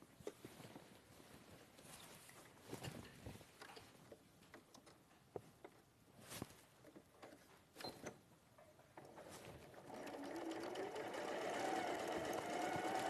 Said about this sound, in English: so again, I'm just going to stitch